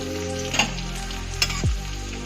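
Chopped ginger and garlic fry in hot oil for a restaurant-style tarka, giving a steady close sizzle broken by a couple of sharp clinks and a scrape of the spoon.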